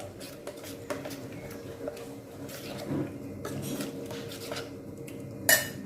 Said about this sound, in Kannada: ಉಪ್ಪು ಹಾಕಿ ತಿರ್ಸ್ಕೊಳ್ತೀವಿ